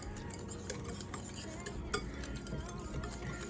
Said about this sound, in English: So we're just gonna give this a good stir.